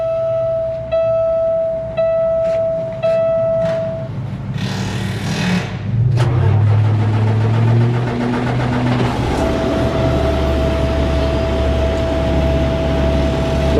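A tow truck (wrecker) engine cranks over and catches, then settles into a steady, loud idle rumble close by, with a warning chime beeping at the start.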